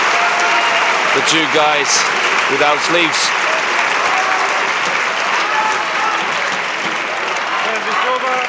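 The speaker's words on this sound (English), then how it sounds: "of course a lot of applause" Applause for badminton players at the 2011 Denmark Open men's doubles: a steady wash of crowd clapping fills the hall throughout, with a commentator talking over it.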